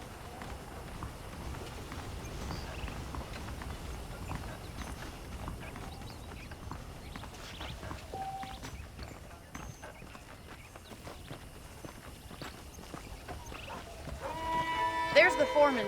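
Horse hooves clip-clopping steadily in Red Dead Redemption, a continuous near trot running under the whole stretch while someone talks over it.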